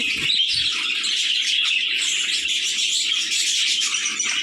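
Several foreign pet birds chirp and tweet at once indoors at home, a dense, loud, overlapping chatter of high calls that stays close and continuous.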